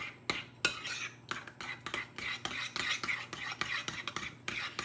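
Sour cream being stirred into a mixture with a spoon in a bowl, giving repeated close scraping and clinking strokes in a steady rhythm, with no talking.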